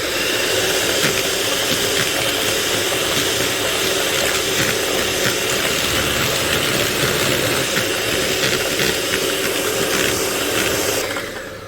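Coconut cake batter with vanilla sugar beaten by an electric mixer, giving a loud, continuous whirring motor drone with a slightly churning texture. It runs unbroken for the whole stretch and then cuts off at the end.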